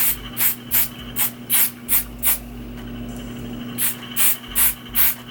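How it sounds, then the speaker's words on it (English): Wig glue spray hisses out in a series of short, close bursts, about a dozen quick sprays with a brief pause midway. "So we just spray it."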